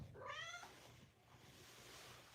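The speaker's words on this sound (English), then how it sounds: "Now my cat is in here." A house cat gives one short, fairly quiet meow near the start, followed by low room noise with no talking.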